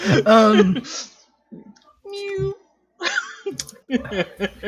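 A human voice imitates a cat's meow in several drawn-out, wavering cries, close and clear, separated by short pauses with faint clicks between them.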